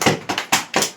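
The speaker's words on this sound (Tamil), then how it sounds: "அவர்களுக்கு மீண்டும் ஒரு ஜோரான கைத்தட்டல் தட்டுங்க" An audience at an award function claps in bursts, sharp close hand claps in a quick irregular rhythm with no talking.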